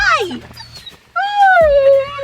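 Dogs whimper and yip at home, high wavering whines close by that rise and fall in two bursts separated by a brief pause.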